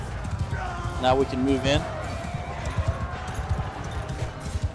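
Horses gallop during a battle in Mount & Blade II: Bannerlord, a steady, dense drumming of hooves under continuous talk, with brief tonal game sounds near the start.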